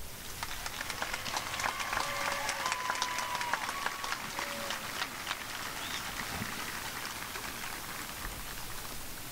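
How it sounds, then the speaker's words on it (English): A graduation audience at the WHS 2021 ceremony applauds the seniors in a dense, steady wash of clapping that holds at an even level throughout, with a few faint whistles rising above it. "I ask now that you give this fantastic group of seniors a large round of applause."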